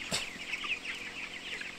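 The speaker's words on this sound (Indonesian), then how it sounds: "Ini ayam belum terlalu kepanasan dah." Broiler chickens about 24 days old cluck steadily in a poultry house, a dense, continuous flock chorus with no voices over it.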